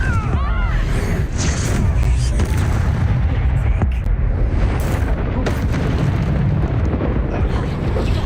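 A Confringo fire spell exploding in the video game Hogwarts Legacy, a loud booming blast with rumbling low-end and crackling debris, thick dense sound throughout with spell whooshes layered in, no clear talk.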